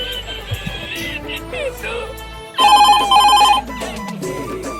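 A telephone rings loudly and insistently in a bright repeating electronic pattern within a Chhattisgarhi comedy skit, with background sound and a few faint voices around it.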